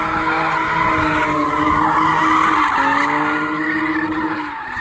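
A 1990s Lexus sedan with an automatic gearbox drifts sideways, tires squealing loudly and continuously over a revving engine for several seconds before the screech fades slightly.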